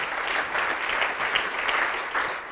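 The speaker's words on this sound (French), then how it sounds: "vous allez vous applaudir d'abord" A crowd applauding steadily, a dense wash of many hands clapping at once, fairly loud and continuous without pause.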